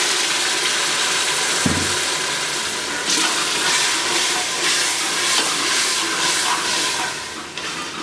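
Loud steady hiss as water hits hot frying masala for masoor dal, a broad rushing sizzle with a brief knock near the start, fading slightly toward the end.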